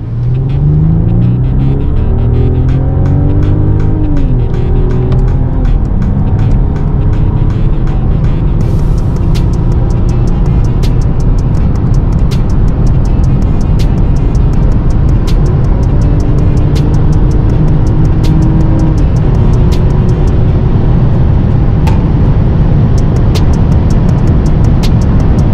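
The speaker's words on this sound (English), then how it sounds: "Put the car into drive, the handbrake. We are actually on the Autobahn right now." Inside a Mercedes S 500 driving onto the Autobahn, the engine drones loudly and steadily while pitch rises as it accelerates, with road rumble beneath and faint ticking clicks throughout.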